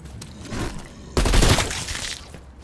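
Gunfire in Call of Duty Black Ops zombies mode comes as a dense, loud fusillade of rapid shots. It starts midway and rattles on for over a second before tailing off, with game noise and no talking.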